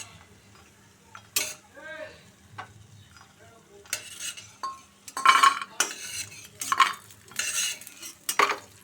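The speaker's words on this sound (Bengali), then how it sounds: "বড়িগুলো ভেজে বড়িগুলো তুলে নিচ্ছি নাহলে একেবারে গুঁড়ো গুঁড়ো হয়ে যাবে" Lentil dumplings (bori) fry in hot oil with a steady sizzle, while a utensil repeatedly scrapes and clinks against the pan as they are stirred and lifted out in irregular bursts.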